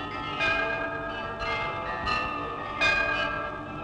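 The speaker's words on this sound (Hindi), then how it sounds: "वो घंटियां पुकारने लगी" Temple bells in the 1954 Indian film Nastik, struck about four times at irregular intervals, each ring sustaining and overlapping with steady background music.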